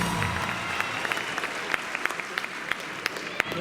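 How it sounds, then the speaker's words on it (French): Audience clapping for the fifteen candidates at the Miss Picardie 2020 pageant, a dense wash of applause with distinct sharp individual claps popping out, steady and close throughout. "Merci d'applaudir les 15 candidates au titre de Miss Picardie 2020"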